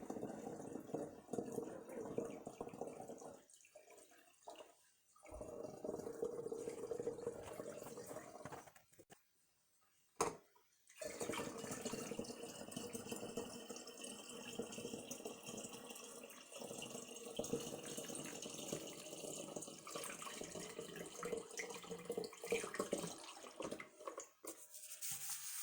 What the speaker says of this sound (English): so that's all the water put in there